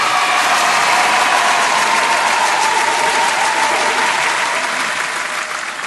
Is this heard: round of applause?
yes